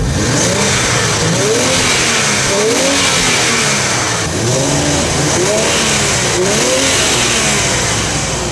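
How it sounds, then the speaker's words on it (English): An Infiniti car engine with dual chrome exhaust tips revs loudly and repeatedly close by, the pitch rising and falling in several surges over a constant rumble. "Now we're going to rev these babies up."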